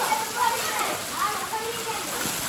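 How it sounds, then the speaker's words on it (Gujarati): Heavy rain pours steadily at a farm, a broad continuous wash of falling water with faint voices talking underneath. "હુપડા મોઢે વરસાદ"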